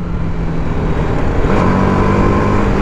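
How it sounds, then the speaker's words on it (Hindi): TVS Apache RR 310 BS6 motorcycle in track mode on a track: a loud, close engine and exhaust note that climbs in pitch as it revs, a gruff, grunting drone with no talk. "बाइक का exhaust sound, grunting sound produce करती है"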